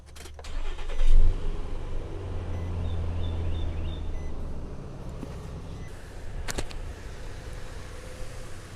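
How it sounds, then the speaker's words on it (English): Car engine cranking after a jump start, a brief labored turnover that catches into a steady mid-pitched idle, close by with a couple of clicks near the end. "let me get in here and try to crank this vehicle up."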